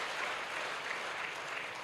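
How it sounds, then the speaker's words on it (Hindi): Applause from the audience at a live motivational talk for young people in Ranchi, a dense, steady patter of many clapping hands, moderately loud and unbroken, with no speech. "आपने नीचे खींचने वालों पे बड़ी ताली बजाई है"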